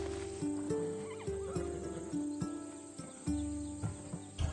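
A horse whinnies in a PS4 video game, its neigh rising over steady game music and ambient insect and bird sounds, with soft clip-clop accents scattered through.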